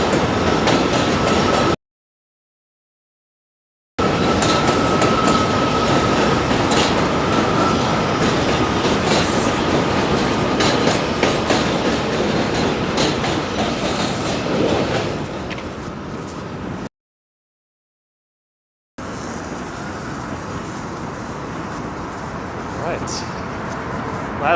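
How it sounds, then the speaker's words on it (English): A New York City Z subway train rumbles past loudly and continuously near the Williamsburg Bridge, wheels clacking over the rails with a high metallic squeal riding on top. "here's the Z train."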